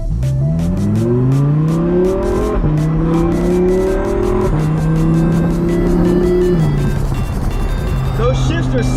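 An Audi R8 V10 screams through rapid upshifts, the pitch climbing in each gear before sharply dropping at every shift, loud and close with crackling bursts on top.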